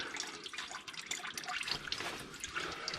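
Fluid trickling and dripping as it drains from a Pioneer 1000-5 side-by-side during its first 100-mile service, a continuous close, hissy liquid patter with no talk.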